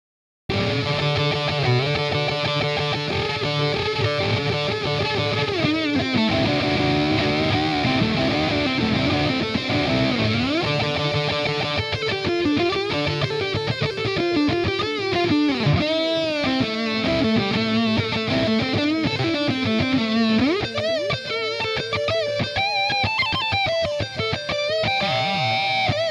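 Distorted electric guitar solo from a punk-flavoured song, played steadily and loud for the whole stretch with dense, continuous lead lines over a full backing mix, no voices.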